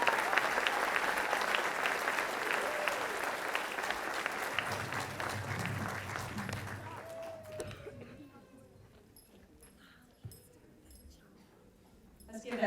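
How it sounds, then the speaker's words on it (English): Sustained crowd applause at a middle school 8th grade promotion ceremony greets a student receiving a trophy. It sounds full and steady, then thins and fades, leaving faint room noise and a few scattered sounds. "Let's give Esther a round of applause."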